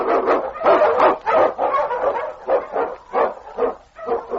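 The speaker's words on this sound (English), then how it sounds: "The Wonder Dog King, swiftest and strongest of Eskimo lead dogs, blazes the trail" A dog, an Eskimo lead dog in a radio drama, barks rapidly and repeatedly, a string of loud, close, excited barks in quick succession.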